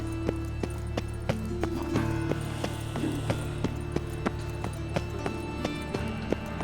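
Roach the horse galloping in The Witcher 3, with sharp, evenly spaced hoofbeats striking in a regular rhythm over droning background game music at moderate loudness.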